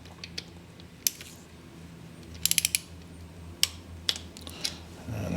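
Scattered ratchet clicks as a wrench snugs the bolt on an SW Motech motorcycle water pump guard to torque, sharp and close, with a small cluster of quick clicks midway, over a quiet hum.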